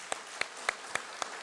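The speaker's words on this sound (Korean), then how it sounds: "우리 한번 축하의 박수 하시겠습니다" A church congregation applauds in celebration during a Sunday worship service; the applause is faint and distant, with about five distinct claps standing out at a steady, even pace.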